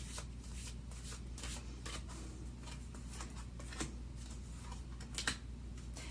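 A deck of tarot and angel oracle cards is shuffled by hand, producing soft, rapid riffling and flicking bursts that continue steadily and quietly throughout, with no talking.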